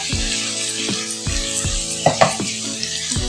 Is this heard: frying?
yes